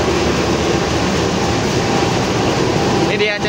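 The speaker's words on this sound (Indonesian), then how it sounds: "mendekat dulu ke lokomotif CC 206" A CC 206 diesel locomotive idling at a station: a loud, steady rumbling engine drone that fills the whole stretch, with a brief clank near the end.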